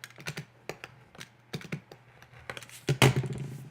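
Scissors trimming the excess from a fabric quilt binding strip at a sewing table, a quick run of close, dry snipping clicks with a louder cluster of cuts near the end, no voices.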